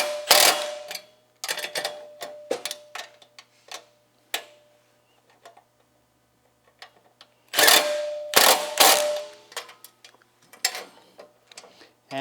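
A hand tool ratchets locking flange nuts down on a Tilmor Power Ox 240 wheel, coming in quick bursts of sharp clicking with quiet gaps between them.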